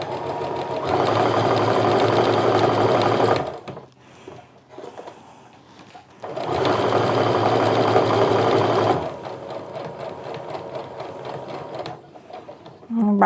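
A domestic sewing machine stitches quilt pieces in two long steady bursts of rapid whirring, close and loud, with a quiet pause between them and a short third run starting at the end.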